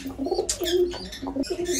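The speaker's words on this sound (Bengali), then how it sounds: "এই যে এটা হচ্ছে ছেলে পায়রাটা" Pigeons cooing close by in a home loft, repeated low throaty coos overlapping in an uneven rhythm, with no talking.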